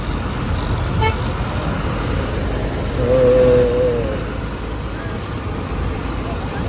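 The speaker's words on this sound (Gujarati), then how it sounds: "ટ્રાફિકમાં ભરાઈ ગયા અમે" A single car horn toot rises out of a rumbling traffic jam on a rain-closed road near the Merdi Mata temple, heard against a constant hum of idling vehicles.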